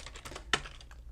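Keys tapped on a computer keyboard while coding in Visual Studio Code: a few soft clicks around one sharper, louder keystroke in a short quiet stretch.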